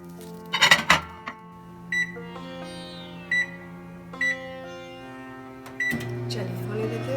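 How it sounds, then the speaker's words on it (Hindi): A microwave oven cooking steamed tilapia with green onion gives a series of short electronic beeps as it is set, then starts running with a steady low hum at the end. "चलिए अभी माइक्रो ओवन में रख देते हैं।"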